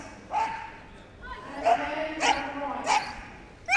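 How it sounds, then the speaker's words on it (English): Collie barking excitedly during an agility run at Crufts, a few sharp yips and barks spaced out over an arena background, moderately loud and partly under a commentator's voice. "You hear her barking with excitement and enthusiasm"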